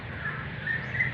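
Birds chirp faintly at Bahawalnagar railway junction in Pakistan, with a few thin, high calls over steady outdoor background noise.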